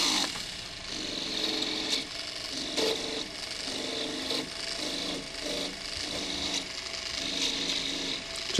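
A hand file scrapes old solder off a piece of jewelry under repair in rapid, even strokes of a dry rasping, rhythmic and close, running steadily throughout.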